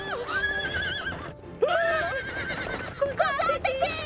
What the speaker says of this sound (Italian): Speriamo che non spaventi il cavallo.